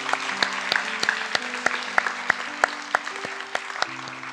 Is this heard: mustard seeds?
no